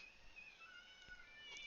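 A cat meows faintly indoors, a drawn-out wavering mew that rises and falls across under two seconds, soft and somewhat distant, with no talking.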